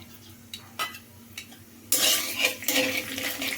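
Cumin seeds crackle and hiss sharply in oil after a few light clinks of metal, the frying continuing loud and close with faint stirring.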